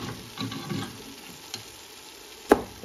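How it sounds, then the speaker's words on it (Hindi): Beef trotter pieces for paya salan sizzle softly in a pan over lowered gas heat while being stirred, with one sharp clink of the spoon near the end. "अब इसमें मैं डालती हूँ ये पाए की बोटियाँ, इसमें डाल लेते हैं और इनको भी अच्छी तरह भून लेंगे।"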